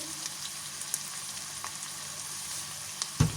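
Vegetables fry in a pan with tomato paste, giving a steady soft sizzle and crackle with a few small pops, then a sharp louder clatter near the end.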